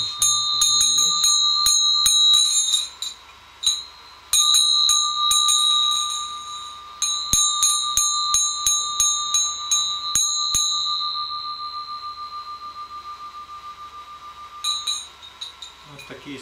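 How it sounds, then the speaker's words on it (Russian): Small Buddhist hand bell, struck several times, with bright metallic rings that linger and slowly decay between strikes; close and clear, with brief handling noises. "Вот такие есть колокольчики буддийские."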